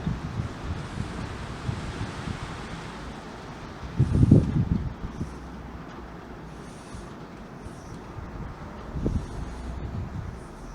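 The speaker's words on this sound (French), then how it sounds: "Par moment il y a des puissantes rafales, hein, c'est pas rafale hein, le vent qui souffle là." Strong gale-force wind gusts blow through Loudéac in Brittany on a February day, making a steady rushing roar. It swells into two louder, buffeting gusts that batter the microphone.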